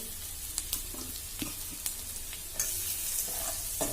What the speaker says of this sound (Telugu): రొయ్యలు వేసుకొని కొంచెం వేయించాలి